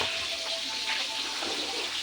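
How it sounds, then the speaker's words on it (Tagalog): Water pours steadily into a cooking pan at home while a coconut-milk banana blossom dish is being prepared, a continuous close hiss and splash with no speech over it. "Lagyan mo ng tubig."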